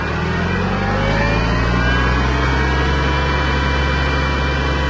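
Kubota A-175 Japanese mini tractor engine revving steadily under throttle as it accelerates, a loud, continuous mid-pitched drone with a strong low hum, close by and without talk.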